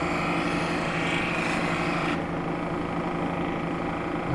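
Edges of a Red Vernon Wonderstone sample being abraded, a steady, loud, continuous grinding rasp that stays even throughout and drops slightly in brightness partway through.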